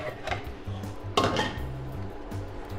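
Battered cauliflower pieces for an Indo-Chinese gobi manchurian are spread around a pan, with clinks and scrapes of a utensil against metal over a low hum and a faint sizzle, close up with no speech.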